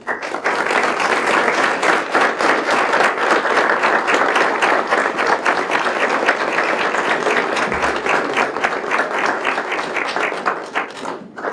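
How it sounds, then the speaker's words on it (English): An audience applauds Commander Martin at a Memorial Day breakfast held by a veterans' post, with strong rhythmic clapping that stays loud and continuous across the whole stretch, individual claps audible within the mass. "give him a round of applause"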